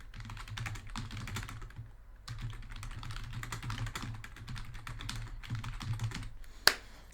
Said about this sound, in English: you probably heard every single keystroke I made